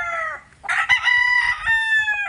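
A tailless gamecock, a one-time fight winner at a game-fowl farm, crows a single loud, close cock-a-doodle-doo that rises, holds and trails off, with no talk over it.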